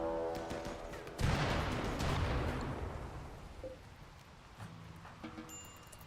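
A sudden sharp burst of gunfire at animals in the video game RimWorld cracks out, then fades into a rustling, rain-like wash with a few faint pops; no speech.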